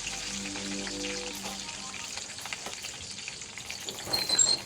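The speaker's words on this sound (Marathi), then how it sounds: "जिरी मोहरीची फोडणी दिलेली आहे." Cumin and mustard seeds with garlic and curry leaves crackle and sizzle in hot oil for a home-cooked stuffed okra dish, a steady close frying hiss with a brief low hum at the start.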